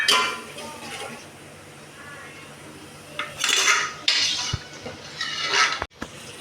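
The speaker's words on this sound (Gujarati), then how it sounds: "હવે મારે બસ મસાલા બળી ના જાય એટલે થોડીક દાળ નાખશું ચડવા દેશું પછી ટમેટા" Dal cooks with spices in a pot, heard as metal spoon clinks and scrapes against the cookware, growing sharper and louder toward the end, with faint talk in the background.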